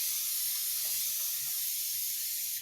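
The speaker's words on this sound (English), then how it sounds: "And I'm going to go ahead and spray." Facial spray misted onto skin as makeup prep, a steady soft hiss that runs continuously for a couple of seconds before cutting off, close and fairly even in level, with no talking.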